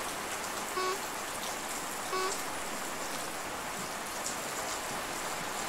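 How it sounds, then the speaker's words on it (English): Steady heavy video-game rain hissing continuously, with a couple of faint electronic beeps rising briefly above the downpour. "this rain is loud"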